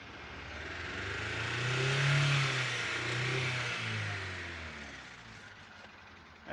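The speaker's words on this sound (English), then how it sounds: "Let's rev it up." An oil-burning engine with a broken piston, smoking heavily, revs up in one long swell and then settles back, its tone rising and falling smoothly, close and fairly loud, with no talking.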